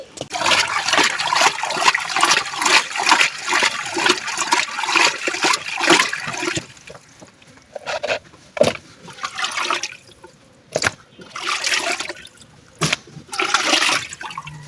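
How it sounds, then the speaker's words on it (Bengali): Fish are washed with water in a clay pot in a village kitchen, with a long run of continuous splashing and sloshing up close, then scattered short splashes and pauses. No one speaks. "এখন এই মাটির আড়িতে মাছগুলোতে ধুয়ে তারপরে রান্না বসাবো"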